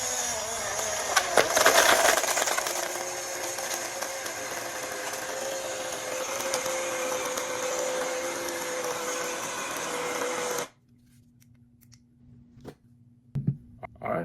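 A portable USB smoothie blender whirs loudly and steadily for about ten seconds, then cuts off abruptly, leaving a quiet room with a few faint handling clicks.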